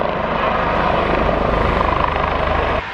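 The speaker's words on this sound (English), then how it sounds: "They're just unloading the helicopter behind me" An air ambulance helicopter sits in woodland with its engine and rotors running, a steady loud thrumming roar with a fast rotor chop that holds for the whole stretch and eases slightly at the end.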